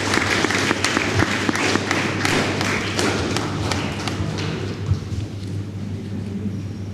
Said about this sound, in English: A round of applause for these two wonderful members who have come into Lions Club.